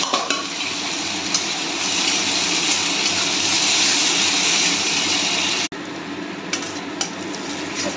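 Chopped chili and garlic frying in a pan with onion, a loud continuous sizzle and hiss that runs steadily, briefly cuts out near the end, then resumes softer with a few clinks.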